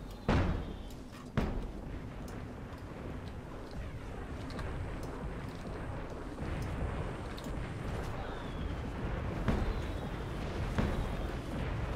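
Big pillar of fire erupting in the video game Guild Wars 2: a sharp blast opens into a sustained roaring rumble, with a second thud and scattered chimes and effects layered over the ongoing fiery drone.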